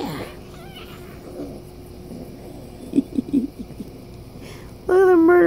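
A Highlander kitten gives a cluster of short, squeaky mews in the middle and then a louder, sustained meow at the end, close to the listener in a quiet room.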